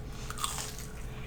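A crunchy plant-based chik'n nugget being bitten into close to the mic, a quick crisp crunch followed by a little chewing.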